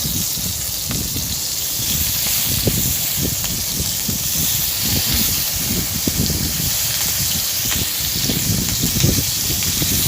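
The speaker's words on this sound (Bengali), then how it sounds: "বাটা মাছগুলো আমি ভালো করে সর্ষের তেল দিয়ে ফাঁকাভাবে ভেজে নেব লাল লাল করে" Bata fish fry in mustard oil, giving a steady, loud sizzling hiss with scattered crackles and spits throughout, no voices.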